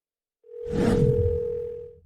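A single steady telephone dial tone sounds clearly on a call to a sister, starting abruptly and holding for about one and a half seconds over a faint rumble.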